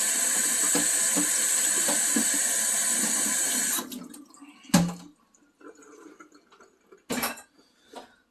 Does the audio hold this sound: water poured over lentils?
yes